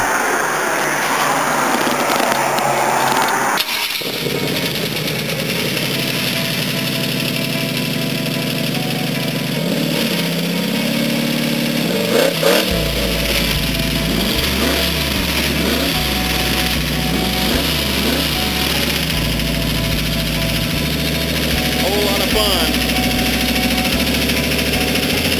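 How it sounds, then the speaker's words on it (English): A 1922 T-bucket hot rod engine cranks and catches after a few seconds, then settles into a loud, steady, lumpy idle with occasional blips of revving, heard up close with no talking. "We'll fire it up so you can hear it run."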